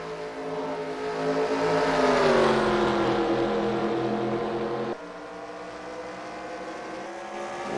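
Race cars in the eNASCAR Heat video game run the DuPont 400 at Las Vegas, a loud sustained engine drone that rises and falls in pitch, then drops back sharply, with no talk.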